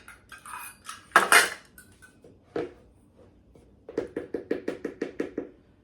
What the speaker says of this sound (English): you're going to put in 2 cups of flour